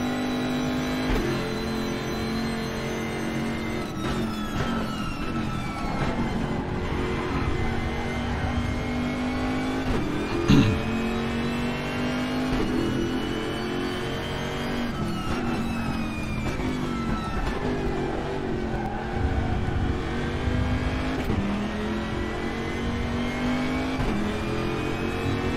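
A GTR3 Camaro race car's rear-wheel-drive engine in the RaceRoom racing game at Mount Panorama, droning loud and steady with rising and falling revs through gear changes, the pitch sweeping up and down as the car laps the circuit.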